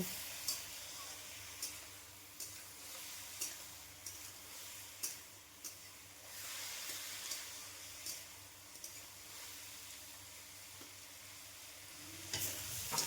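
Mixed vegetables with green peas fry in a wok, a steady broadband sizzle with repeated scraping stirs at a fairly even rhythm, close and moderately loud, with no talking over it.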